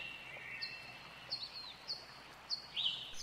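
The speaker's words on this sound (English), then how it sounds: "we have different birds and different water noises and different nighttime noises" Daytime ambience from the Unturned video game's Washington State map, with several short, thin bird chirps spaced across a quiet background of faint running water.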